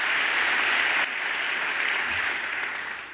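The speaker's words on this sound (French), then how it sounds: "on peut applaudir, des premiers prix de la soirée" Audience applause fills the hall at an awards gala as the first prizes are presented, a dense even patter of many hands that dips slightly partway through and tapers off toward the end.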